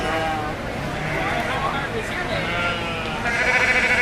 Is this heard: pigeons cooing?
no